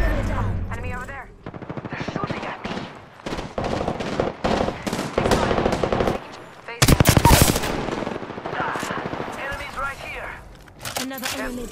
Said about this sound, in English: Target spotted. Opening fire.